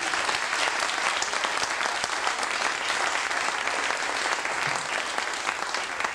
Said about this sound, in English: How about a big round of applause for a